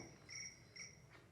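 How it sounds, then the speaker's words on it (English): Crickets chirping in short, faint pulses against a quiet background hum, with no voices. "Crickets."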